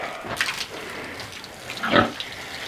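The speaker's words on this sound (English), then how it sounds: "I just fed the pigs, and now I'm going to give them a little bath." Pigs on a small farm in the Philippines, just fed and about to be bathed, give a few short oinks and grunts at moderate distance amid faint splashing water and background noise.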